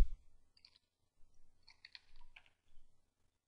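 A few quiet bursts of key presses on a computer keyboard as a command is typed, soft and close, with short pauses between the clusters and no talking.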